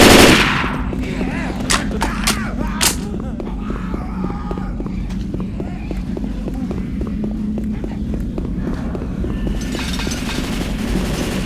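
Rapid automatic gunfire in the video game Left 4 Dead, loud and continuous bursts with sharp single shots over a constant droning background, with a voice talking over part of it.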